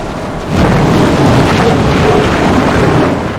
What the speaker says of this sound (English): this is what it's like inside of one of these storms